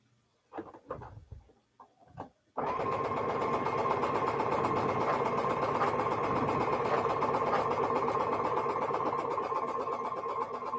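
Sewing machine stitching an Elizabeth Hartman animal quilt block: scattered taps and fabric handling, then a long, steady, rapid mechanical hum and chatter running evenly to the end.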